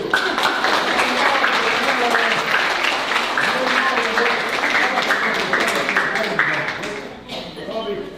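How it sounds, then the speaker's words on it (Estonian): Applause fills a room at a primary school Christmas party, with steady, dense clapping from many children and adults that is loud and sustained before tapering off near the end. "Okei, aplaus!"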